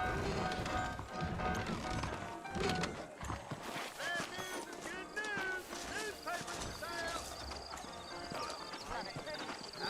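Horses' hooves clip-clop at a steady trot in the Red Dead Redemption video game, quiet and mixed under game voices talking.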